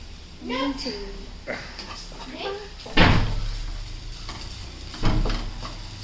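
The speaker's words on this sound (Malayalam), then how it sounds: "കരിഞ്ഞു പോവാതെ നമ്മളിങ്ങനെ ഇളക്കിക്കൊണ്ടിരിക്കണം." Ingredients sizzle in a frying pan with mustard seeds for an egg roast curry, stirred with soft scraping and a couple of louder clanks, while a person talks over the cooking.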